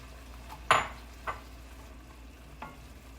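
Asparagus dropping into a hot pan for spicy shrimp pasta, a soft sizzle with a sharp clatter and stir at the start, followed by a couple of quieter scrapes against the pan.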